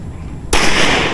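A single sharp gunshot cracks at a firing range in Norzagaray, Bulacan. After a moment of quiet it bursts loud and close, followed by a brief ringing decay.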